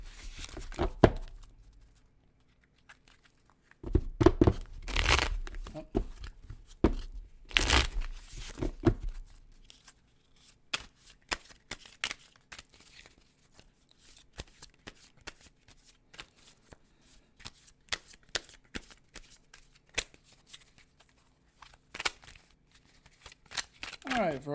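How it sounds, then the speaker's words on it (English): A tarot card deck shuffled by hand up close, with a couple of heavier riffle bursts early on giving way to a long stretch of rapid crisp card clicks and slaps, with a brief spoken exclamation. "Let me give this deck a nice shuffle."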